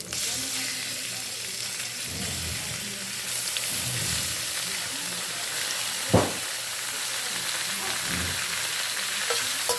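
Pork frying in a pan for Filipino bam-i, a steady close sizzle with occasional stirring and one sharp clatter midway, no one talking over it.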